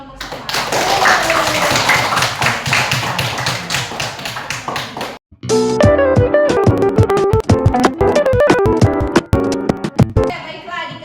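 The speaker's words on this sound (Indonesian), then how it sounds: "Beri aplaus dulu untuk kita semua, untuk kelompok semua." Students in a classroom clap together in a dense burst of applause for the class groups, followed by rhythmic music with sharp taps and beats.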